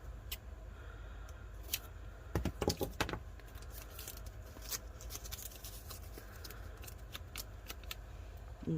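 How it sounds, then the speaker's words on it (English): Painter's tape pulled off the roll and pressed along the edges of a glitter tumbler, giving dry crackly ticks and rustles with a louder burst of tearing and crinkling partway through, close up and without talk. "I'm going to go ahead and run a tape line along all the edges"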